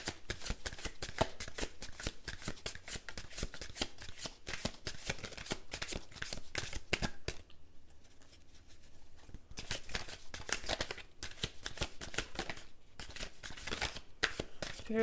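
Tarot or oracle cards shuffled in a steady run of quick riffling flicks, close and fairly quiet, pausing briefly midway before the brisk shuffling resumes.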